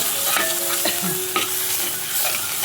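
Onion-coconut masala fries in hot oil with a continuous close sizzle, broken by a few spoon scrapes and taps against the pan, brief and with no talking.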